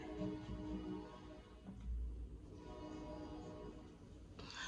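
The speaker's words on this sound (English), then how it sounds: "Forgive the train." A train passes in the background with a low rumble and a brief horn-like tone, steady and moderately distant, with no talking over it.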